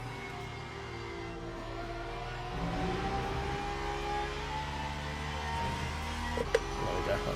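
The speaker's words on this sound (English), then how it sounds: "I know you want to rev the Porsche out a bit more" A Porsche race car engine in the racing sim Le Mans Ultimate hums steadily, then climbs in pitch as the revs rise, holding a high whine with faint road noise beneath.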